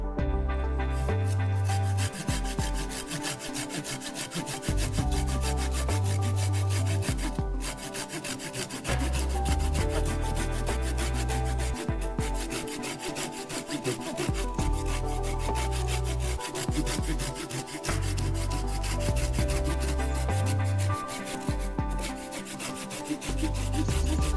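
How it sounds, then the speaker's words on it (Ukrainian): A Felco 602 folding pruning saw rasps back and forth through a large wooden branch in a steady, rhythmic stroking pattern, loud and close, continuing without pause. "Зараз подивимося, як ця пилка ріже дерево."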